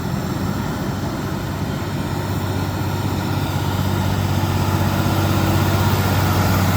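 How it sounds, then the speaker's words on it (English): Overloaded truck hauling a large bonsai tree up a steep mountain pass, engine roaring in a loud, steady low drone with constant strain throughout, no voices. "the car has to struggle to climb steeply in the roar of the engine"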